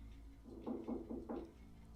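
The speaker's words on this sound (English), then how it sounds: "hears knocking from the glass back door" Knocking on a glass back door in a living room at night: a quick series of four or five muffled raps, clustered in two groups, heard at low volume in a quiet room.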